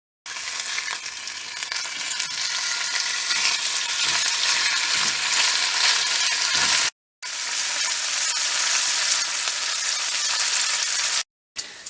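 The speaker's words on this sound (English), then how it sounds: "let's cook some bacon" Bacon frying on a propane stove inside a camper gives a loud, dense, continuous sizzle and crackle, broken by two brief silences, close up with no talking.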